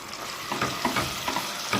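Chicken gizzards fry in melted local ghee for a stuffing of chicken and pigeon, giving a steady close sizzle with scattered crackles and stirring scrapes throughout, no voices.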